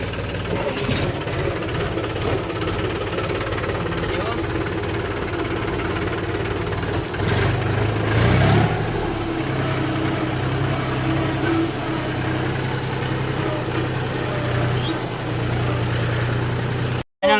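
A tractor with a blade attachment idles steadily with a low, chugging rumble throughout, briefly revving louder partway through, with no talking.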